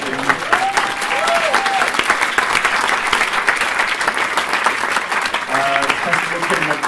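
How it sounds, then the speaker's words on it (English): Sustained applause from the audience at a festival closing and awards night, steady clapping throughout with a voice briefly heard over it near the start and again toward the end. "everyone clap them"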